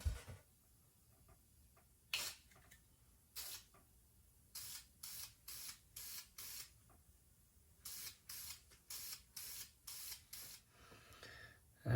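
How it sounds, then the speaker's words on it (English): Short bursts of aerosol lacquer hiss across a chrome-painted plastic fishing lure, one isolated spray followed by a quick run of evenly spaced squirts, near and crisp against a quiet background. "Since this thing's plastic, I guess I'm just gonna hit it with some lacquer to give it a shine."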